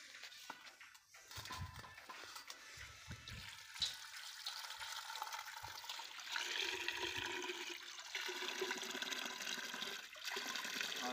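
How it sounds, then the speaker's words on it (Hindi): Water sloshes and trickles as apple plants in a nursery have their roots dipped into water, a continuous splashing, running sound that is close and moderately loud. "उसके बाद में इसको पानी में डिप करेंगे।"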